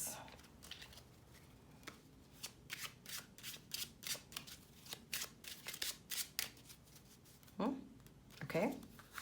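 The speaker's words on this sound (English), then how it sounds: "I am gonna bridge this deck here." A deck of Sunburst cards being bridged and shuffled, a quiet run of quick papery riffles followed by two softer flutters near the end, with faint talk in the background.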